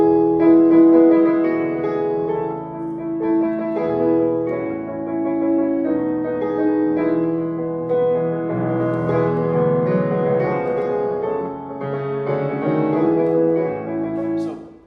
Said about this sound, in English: this piece, this Widmung, this dedication by Schumann